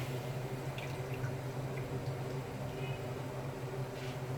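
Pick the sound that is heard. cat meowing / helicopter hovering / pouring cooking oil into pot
pouring cooking oil into pot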